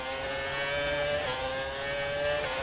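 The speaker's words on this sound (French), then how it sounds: "On retrouve le son des Formule 1 de l'époque," A retro Formula 1 car engine in the racing game F1 2018 holds a steady, loud, high-pitched wail with rich harmonics, heard alone without any talk.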